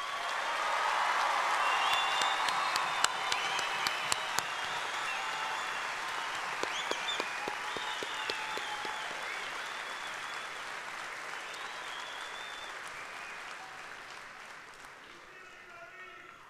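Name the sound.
applause for graduates at commencement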